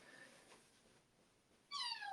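After a quiet stretch, a new kitten gives one short, high meow nearby.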